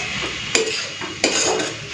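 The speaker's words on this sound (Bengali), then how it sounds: "চলো মিশিয়ে নিই" Cooked kochur loti (taro stolons) with prawns and coriander stirred in a pan: two sharp spoon-against-pan scrapes over a steady low sizzle, close and clear, with no voices.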